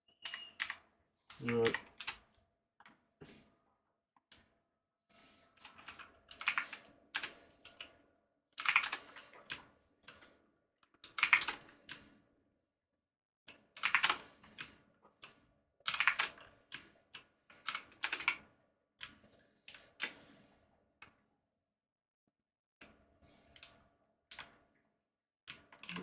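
Someone types on a computer keyboard in irregular bursts of rapid clicking, separated by short silences. A voice speaks briefly near the start.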